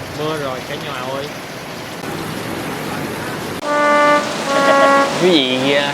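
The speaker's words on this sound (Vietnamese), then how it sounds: "Quý vị khán giả cũng đã thấy rồi đó, một cơn mưa lớn đã ập đến." Heavy rain pours down at a roadside grilled corn stall, a steady broadband hiss running throughout while someone talks over it loudly and continuously.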